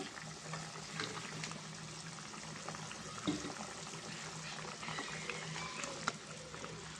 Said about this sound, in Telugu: ఇదిగోండి పులుసు అయితే మరుగుతుంది కదా ఫ్రెండ్స్